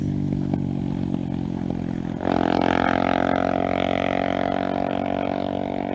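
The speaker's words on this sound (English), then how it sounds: "My goodness, motorcycles are loud." Loud motorcycle passing by outdoors, its engine rumbling steadily then surging abruptly into a louder, rising roar that stays close and dominant to the end.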